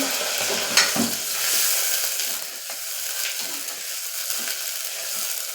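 Mixed vegetables sauté in hot oil for Kathiyawadi dhaba-style masala khichdi, a close steady sizzle with a few scraping stirs and a clatter near the start, alone without speech.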